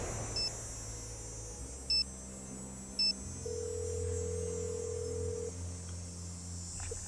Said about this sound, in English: Let's call Nancy and let her know